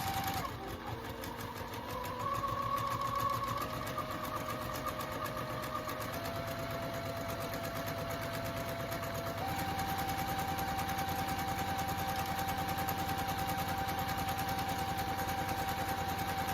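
A sewing machine steadily stitching fabric for a bowl cover gives a continuous, fast mechanical whir and rapid needle chatter, close and even, with a slight shift in pitch partway through and no pauses.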